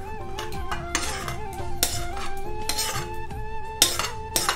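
Cooked tomato thokku being scooped into a metal vessel in a home kitchen, with steady clinks and scrapes of a spoon against the pot over several seconds, loud and close with no talking.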